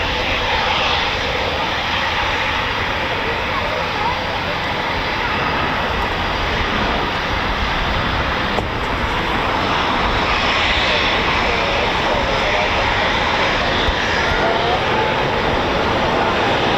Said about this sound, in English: looking at the Typhoon that's just gone on the overhead, just right above us now